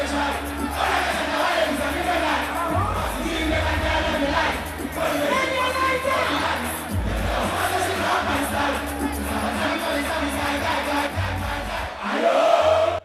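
A large, dense crowd of fans at a late-night concert in Manche Agbona Park, Jamestown, roars and shouts in displeasure at a long wait, a loud, sustained clamour of many voices that surges and dips.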